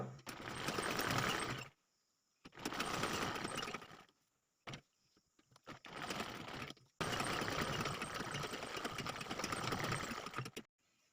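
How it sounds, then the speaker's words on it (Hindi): Sewing machine stitching a choli blouse, several bursts of steady whirring stitching separated by brief silences, close and clear, with no talk over it. "और इसे इस तरह से फोल्ड करके फिर एक सिलाई और लगा लेंगे।"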